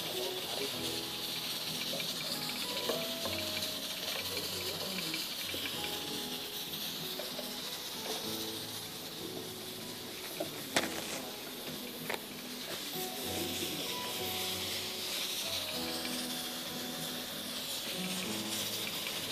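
French beans and carrots fry in a pan, giving a steady, close sizzling hiss that runs unbroken for the whole stretch, with a couple of brief clinks partway through.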